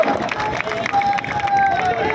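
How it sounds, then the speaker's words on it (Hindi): Outdoor crowd at a Hindu community protest rally in Ratnagiri applauds for the police, a dense steady wash of clapping and cheering voices under a faint sustained tone, loud throughout. "तो पुलिस के लिए तालियां बजाओ"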